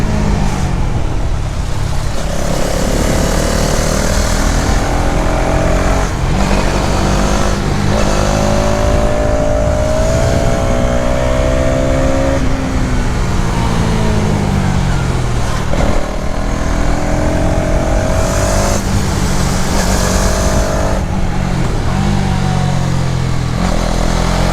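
A 2026 Hero Xtreme 250R motorcycle ridden on the road, its engine buzzing continuously and rising in pitch through repeated throttle pulls and gear shifts, loud and close with wind rush throughout.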